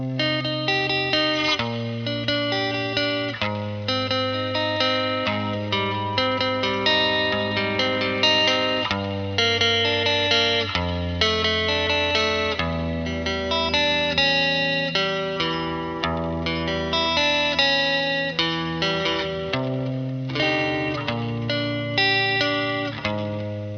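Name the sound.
guitar reverb pedal compressed by compressor pedal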